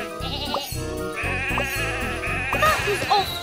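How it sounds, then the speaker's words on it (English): Sheep bleat repeatedly in a Thomas the Tank Engine children's game where they have strayed onto the railway, several short, close, nasal bleats over a cheerful backing tune. "Sheep have wandered onto the tracks."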